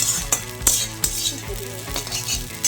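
Potatoes and Maggi noodles with spices fry in a pan, sizzling steadily while a utensil scrapes and clinks against the metal in repeated stirring strokes, close and alone.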